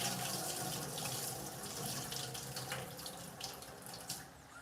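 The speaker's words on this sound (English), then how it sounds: "Drain off this water." Water being poured off washed rice, a steady close splashing flow like a running kitchen tap that eases off slightly toward the end, with no voices.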